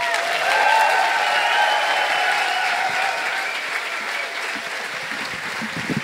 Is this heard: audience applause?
yes